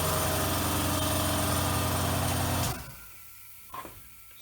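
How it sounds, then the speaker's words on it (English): An air compressor drones loudly and steadily in a milling-machine workshop, then cuts off abruptly partway through, leaving near-silence broken by a single brief knock. "the compressor's going in the background"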